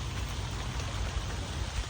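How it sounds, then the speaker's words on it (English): Steady rain falls in a garden, a dense even hiss of drops spread across the whole clip with no talking. "So I'm heading inside now because it's raining."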